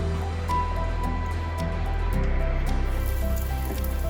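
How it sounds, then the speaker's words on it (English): A homemade rain machine sprays water from a hose onto a night film set, giving a steady, close hiss of falling water over a low hum, with no voices. "I secured the hose and turned on my homemade rain machine."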